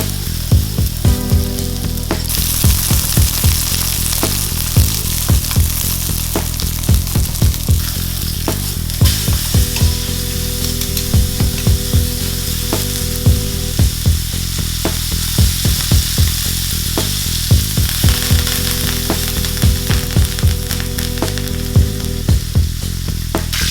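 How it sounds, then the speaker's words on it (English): Steady, loud sizzling of a steak frying in its own rendered fat in a pan, a continuous crackle with regular pops and spatters running throughout without any talk. "the fat is rendering out there in the pan"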